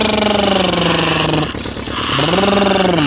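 A toy KTM motorcycle gives a loud, steady droning engine rev that dips briefly midway and then climbs back up.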